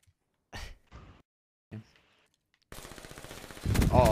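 Rapid automatic gunfire rattles in a 1v1 shooter video game, a dense burst of shots near the end that grows louder, after a few short gasps and breaths from players.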